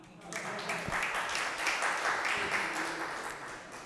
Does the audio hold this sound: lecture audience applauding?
yes